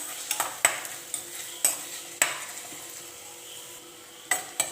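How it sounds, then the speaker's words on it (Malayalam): Green chillies and curry leaves sautéing in a pan for a curry, with a soft background sizzle and sharp, scattered spoon scrapes and taps against the pan, moderately near and with no voices. "2 പച്ചമുളക് കീറിയതും 1 തണ്ട് കറിവേപ്പിലയും ചേർത്ത് നന്നായിട്ടൊന്ന് വഴറ്റിയെടുക്കാം."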